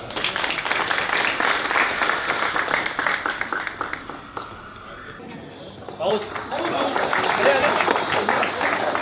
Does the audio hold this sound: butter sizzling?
no